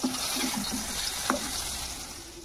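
Small eggplant pieces frying in hot oil, a continuous dense sizzle with soft stirring clicks, close and moderately loud.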